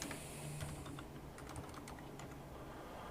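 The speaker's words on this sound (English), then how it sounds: "what I'm just doing is I'm just typing in some of the name of the folder and then I'm pushing tab" Computer keyboard typing while a folder name is entered during a live PC system build, a run of quick key clicks with a few sharper taps, close and steady over faint background hum, no talk.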